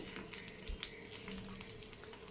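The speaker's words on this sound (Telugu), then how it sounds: "మనం స్టఫ్ చేసుకున్న ఈ వంకాయలన్నింటినీ ఈవెన్గా ఇలా ప్యాన్లో పెట్టేసుకోవాలి" Stuffed eggplants being laid into a hot frying pan, giving a faint, steady oil sizzle with small crackles and light clinks of placement, heard alone without talk.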